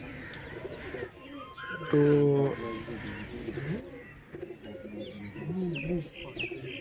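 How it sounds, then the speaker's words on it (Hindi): Diving pigeons coo nearby in low, soft rolling calls, with a few chirps, while someone talks over them. "ये डाइवो कबूतर है।"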